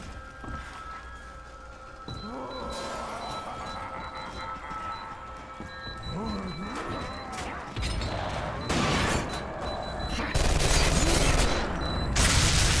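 Weapon fire in the video game F.E.A.R. 3 comes as repeated shots and bursts amid game noise, growing louder and denser toward the end, with a voice talking in places.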